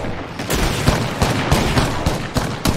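Airstrike explosions in Apex Legends rumble steadily as a dense barrage of sharp, booming blasts, striking close together and loud for about three seconds with no talk.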